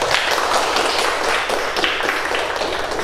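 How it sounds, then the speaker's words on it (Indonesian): Students in a classroom clap together in a dense, even round of applause lasting about three seconds, close and fairly loud, with no voices over it. "Beri tepuk tangan untuk kita semua."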